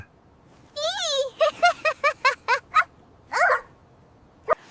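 A black dog barks: an opening drawn-out yelp, then a quick run of about seven sharp barks, a longer bark and a last short one, all close and clear against a quiet room.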